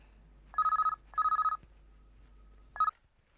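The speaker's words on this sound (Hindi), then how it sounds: "फोन उठाओ।" Old landline telephone bell ringing indoors, two long trilling rings followed by a short cut-off burst, loud and close with no talking.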